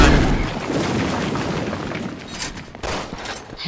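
Resident Evil 6 gunfire blends into a loud, churning barrage of shots and booms, with dense overlapping reports that ease slightly before a final cluster of sharp bangs.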